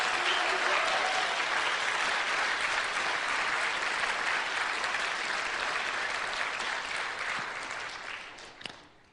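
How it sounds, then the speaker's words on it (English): A lecture audience bursts into loud, dense applause that holds steady for several seconds before tapering off and fading out near the end. "Let's have a hand for that."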